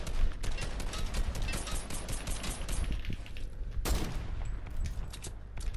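Gunfire in Fortnite, rapid bursts of shots cracking in quick succession throughout, fairly loud and dense, with mechanical clatter between volleys.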